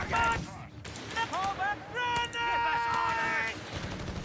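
Machine gun fire in the World War II strategy game Company of Heroes 3 rattles through a busy battle mix, with voices talking over it and tonal game sounds weaving through the steady rapid bursts.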